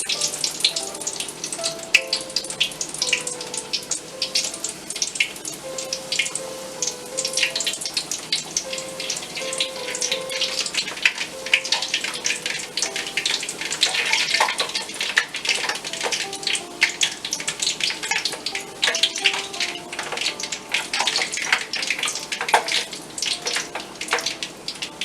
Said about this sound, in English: bhatture bread I'm going to put slowly inside the oil and use this spoon and press it a little bit.